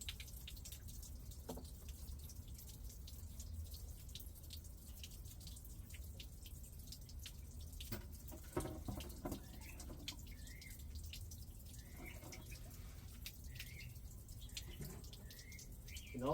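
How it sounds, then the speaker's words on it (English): Water trickling and dripping into a small bonsai pot outdoors at sunrise, faint scattered drips over a quiet background, with occasional birdsong in the distance. "I'm going to water this one down here too that got knocked over."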